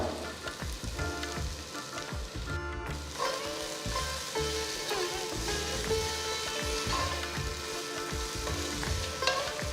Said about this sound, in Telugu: ఈ కొత్తిమీర పుదీనా వేసిన తర్వాత ఒక వన్ మినిట్ బాగా దాన్ని మిక్స్ చేసేసేయండి